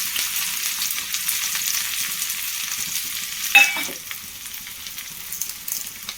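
Chopped onions fry with a soft, steady sizzle in a pan, a brief clatter of stirring midway, then continued quiet crackling.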